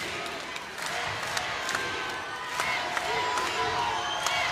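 Loud crowd in a college volleyball arena, a packed home gym at a tense late-set point, roaring and cheering in a steady, sustained wash with sharp shouts and claps poking through, while a commentator talks over it.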